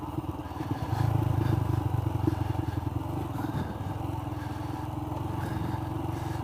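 An adventure motorcycle runs along a rough dirt road, its engine droning steadily and close with a constant buzzing note. Gravel and suspension clatter and rattle underneath throughout.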